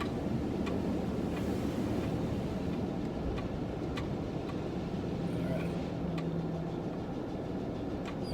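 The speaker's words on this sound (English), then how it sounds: "I gotta slow down for the underbody wash here" Underbody wash blaster at an automatic car wash, a steady broad rushing spray heard from inside the car, continuous and fairly loud throughout with faint occasional ticks over it.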